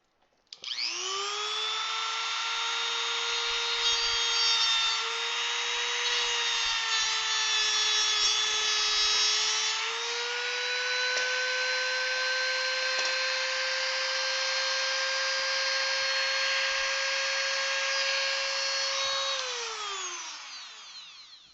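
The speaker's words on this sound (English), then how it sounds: "Even though I've been using a Dremel for a very long time, they still sometimes scare me." Dremel rotary tool cutting outdoors, a loud steady high-pitched whine that holds for about twenty seconds with slight pitch shifts under load, then winds down at the end.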